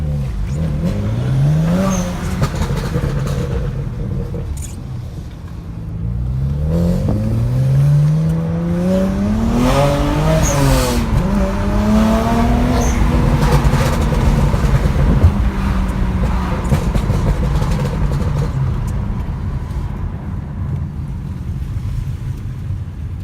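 BMW 335i engine pulling hard under boost on a test drive, revs climbing and falling in repeated sweeps, loud and close from inside the car with no talking.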